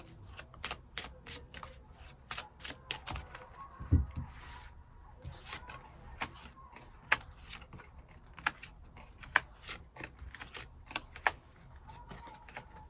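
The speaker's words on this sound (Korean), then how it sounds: "추가 카드 뽑아보도록 하겠습니다" Tarot cards being shuffled and drawn, a busy run of crisp riffling and flicking clicks with occasional soft slaps, close and fairly quiet, with no voice.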